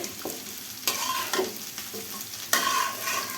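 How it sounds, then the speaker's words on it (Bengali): Vegetable curry with spices is stir-fried in a pan, a quiet hiss of frying punctuated by sharp scrapes and knocks of the spoon at irregular intervals, no speech. "তরকারিটা খুব ভালো করে কিন্তু কষাতে হবে"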